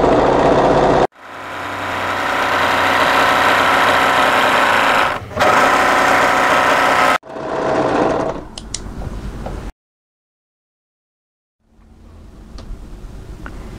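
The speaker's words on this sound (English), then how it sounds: "I'm going to overlock on the raw edge" An overlocker serges the raw edge of fabric, running loud and close in a steady mechanical whir broken by a brief dip, then stopping and restarting in shorter bursts before falling silent and resuming faintly.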